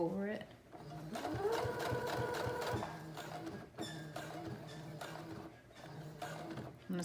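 A sewing machine stitches a high-waisted denim skirt in steady, rapid rhythmic bursts with brief pauses, close and moderately loud, while someone talks over it.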